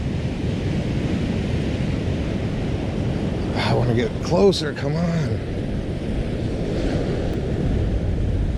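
Ocean waves wash over coastal rocks in a steady roar, buffeted by wind noise on the microphone, while someone speaks briefly over the surf.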